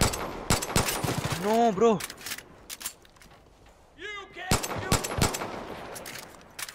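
Gunfire in Far Cry 5: sharp, close shots fired singly and in quick bursts, with someone speaking briefly between them.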